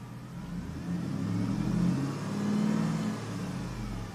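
A Ram pickup's Hemi V8 revs up and down twice, a fairly faint, smooth engine whir with a slight whine. The engine runs rough and low on power with a misfire code, and no one speaks.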